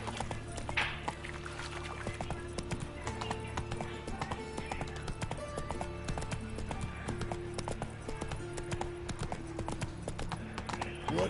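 Roach, the horse in The Witcher 3: Wild Hunt, gallops in a steady, fast clip-clop that runs throughout under a constant game-music bed, with a brief voice heard near the start.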